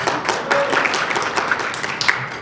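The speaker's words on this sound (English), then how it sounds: "she can get a round of applause" Audience applause at a live-streamed media industry event, a moderate round of clapping from a room of people, steady and fairly close.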